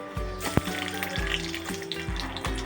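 Chana dal and urad dal frying in hot oil, a steady bubbling sizzle with a sharp clink early on and a recurring low rhythmic hum underneath.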